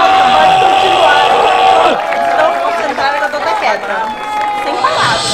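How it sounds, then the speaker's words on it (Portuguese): Crowd at an outdoor hip hop rap battle erupts in loud cheering, whoops and clapping, dense and near at first, then thinning into chatter and scattered shouts before swelling again. "Palmas pra essa batalha."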